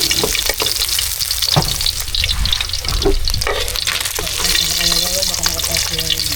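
Steady, loud sizzling of garlic frying in a hot pan, with occasional clatters of stirring throughout.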